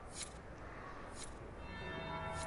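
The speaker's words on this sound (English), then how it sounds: "That'll be the second bell." Church bell tolling in Dragon Age: Inquisition, a few distant resonant strikes spaced about a second apart over a steady murmuring ambient bed, quiet and reverberant.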